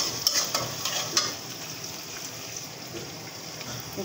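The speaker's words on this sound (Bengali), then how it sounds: "ঝাল পেঁয়াজ রসুন দিয়ে দিলাম।" Chili, onion and garlic fry in a pan with a steady, soft crackling sizzle throughout. A few sharper pops come near the start, and no one speaks.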